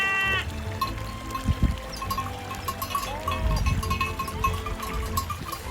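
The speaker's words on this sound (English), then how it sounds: "the distant bells of grazing sheep" Scattered metallic bells of grazing sheep ring out in an open outdoor mountain setting in Norway, mixed with occasional bleats and low rumbling background noise.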